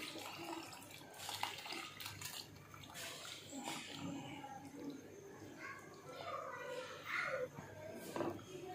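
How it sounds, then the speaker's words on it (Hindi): Leftover yakhni stock is poured into a fried goat head masala, a soft splashing pour under a person talking, fairly faint. "इसमें जो हमारे पास यखनी बची है वो इसमें शामिल करेंगे"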